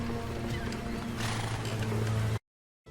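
Several horses neigh and whinny in a medieval strategy game (Age of Empires 2, Battle of Hastings), loud and continuous with a hint of hooves, then cut to silence near the end.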